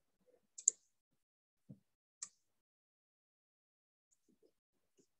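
A few sharp computer mouse clicks, spaced apart, while an order is being set up in shipping software, quiet and close with silence between them.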